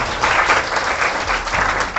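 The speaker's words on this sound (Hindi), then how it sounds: "एक बार इसके लिए जोरदार ताली होनी चाहिए।" Applause from a classroom of students greeting a second-ranked topper at an interview session, dense steady clapping filling the whole stretch without talk.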